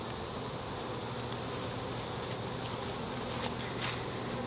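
Honey bees buzz steadily in a dense, continuous hum during a hive inspection, loud and close throughout, with faint clicks and handling noises mixed in.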